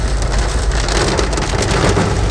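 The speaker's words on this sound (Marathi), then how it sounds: "सकाळपासून पाऊस खूप पडतोय" Heavy monsoon rain pours steadily outdoors, a loud, dense and continuous hiss of drops hammering surfaces with no pauses or voices.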